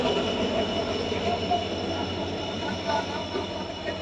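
The Farakka Express pulls into a station platform with a continuous low rumble, rolling wheel clatter and faint squealing from the rails. The sound stays close and steady throughout.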